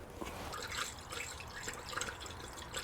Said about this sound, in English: Let's fill it up with some oil.